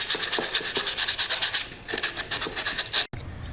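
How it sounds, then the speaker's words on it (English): Sandpaper rubs corrosion off a part of a seized Predator 212 engine that sat outdoors for five years, making rapid, regular back-and-forth scratchy strokes up close. A short pause falls midway, and the clip ends with a brief handling clunk. "I'm just going through here now with a little bit of sandpaper, trying to get at least some of the corrosion off of this."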